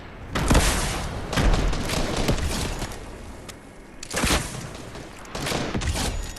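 Grenade launcher explosions in a video game, several loud booming blasts in quick succession with rumbling bursts rolling into one another and brief lulls between volleys, no voices.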